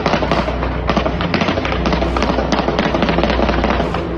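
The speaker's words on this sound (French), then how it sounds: "Après ces salves de tir" Dense volleys of gunfire crack in rapid, overlapping bursts during a shooting in Rennes. The shots are loud and near, and they run without pause for a few seconds.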